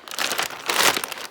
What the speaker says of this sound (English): This is the biggest Ziploc bag I have ever seen